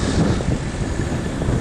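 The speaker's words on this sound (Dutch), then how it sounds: "Dat is de wind, mensen. De wind." Steady, loud wind buffeting a microphone at a port in Venlo, a continuous rough rumble with no pauses and no voices.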